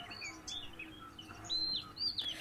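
White-breasted waterhen calling from grassland by a window, a series of short, faint chirping notes repeated at irregular intervals over quiet background.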